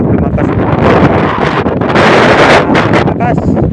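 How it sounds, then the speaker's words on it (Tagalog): Strong, gusty wind roars and buffets the microphone ahead of an approaching typhoon near Manila's NAIA airport, loud and continuous throughout. "Ang lakas ng hangin kasi nga may bagyong paparating."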